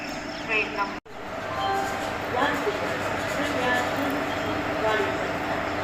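Steady rumbling ambience aboard or beside the Gwalior–Bhopal intercity train, hauled by a WAP 4 electric locomotive at Gwalior Junction. Broad continuous noise holds throughout, with a sharp dropout near the first second.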